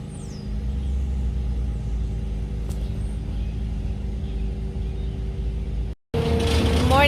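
Heavy construction vehicles working on nearby house building make a steady, loud low rumble of engines and machinery throughout, briefly cutting out near the end before resuming.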